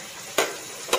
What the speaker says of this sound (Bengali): খানিকক্ষণ ফ্রাই করতে হবে